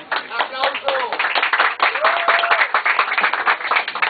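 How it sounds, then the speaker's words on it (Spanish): Audience applause at a trova show in Medellín, a crowd of hands clapping steadily throughout with cheers and voices calling out over it. "¡Aplauso!"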